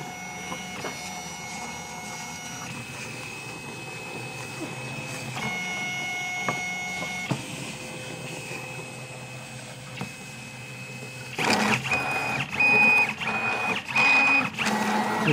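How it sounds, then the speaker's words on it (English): Stepper motors whir and whine in shifting pitched tones as a Lobo3D printer runs test motions at 500 millimeters per second, then louder, choppier bursts of rapid motion toward the end. "And now we have a few test motions of the printer here."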